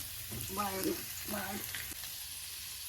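Onions sizzling in a pan with salt, browning for chicken biryani: a steady, close frying hiss with a couple of brief tonal squeaks from the pan or spoon, no one talking.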